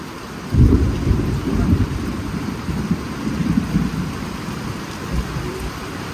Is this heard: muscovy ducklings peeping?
no